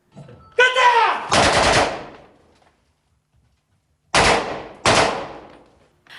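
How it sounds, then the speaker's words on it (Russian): Loud gunshots ring out indoors during a Rosgvardia assault team training exercise near Syktyvkar, coming in two sharp paired bursts separated by a few seconds of silence, each with a reverberant tail. "От выстрелов закладывают уши."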